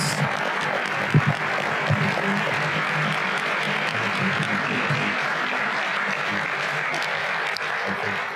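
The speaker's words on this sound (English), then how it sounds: "how about a round of applause for these set of candidates?" Audience at a civil dialogue candidate debate applauding the candidates, a sustained wash of clapping throughout, even and moderately distant in a large room, with faint murmurs underneath.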